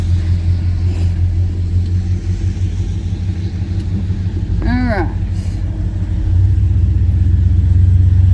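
A caravan vehicle's engine rumbles low and steady while idling, then grows louder and heavier as it pulls away. A person speaks a single brief word partway through.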